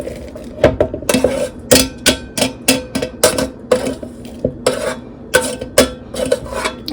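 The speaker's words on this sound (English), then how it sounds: "so I'm going to put those in the bowl" Air-fried food is tipped and scraped into a bowl, making a string of close, sharp clinks and clatters in an irregular rhythm, with no talking.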